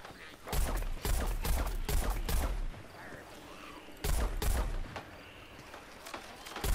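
Rapid bursts of gunfire from the shooter Plants vs Zombies Garden Warfare, loud close volleys in two main clusters with quieter stretches between, ending on another burst.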